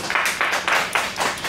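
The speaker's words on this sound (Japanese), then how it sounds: "ノア君が勝ったと思う人拍手してください" Audience at a business debate clapping to vote for Noah as winner: a brief, moderate burst of applause from a modest group in a room, pulsing unevenly over a second and a half.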